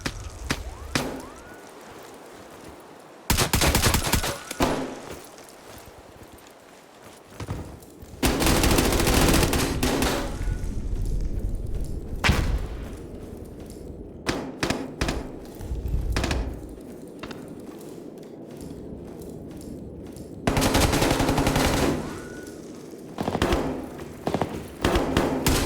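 Automatic rifle fire on full auto in a shooter video game, long loud sustained bursts separated by quieter gaps, close and dominant with little talk.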